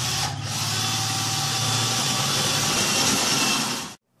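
Power drill boring a mounting hole for a ceiling fan, a steady high whine with a grinding edge held for about four seconds before it stops abruptly.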